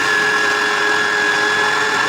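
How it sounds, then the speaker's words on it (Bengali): An electric blender grinds soaked rice for batter, a loud steady motor whir holding one even pitch from start to finish, close and alone. "ব্লেন্ড করলো, অফ করলো।"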